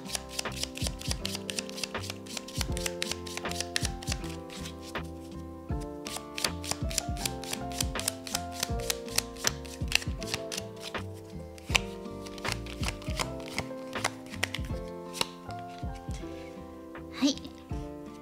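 Lenormand cards get shuffled by hand for a tarot-style reading, a long run of rapid crisp riffles and taps in close, uneven bursts over soft background music, with a voice speaking at points.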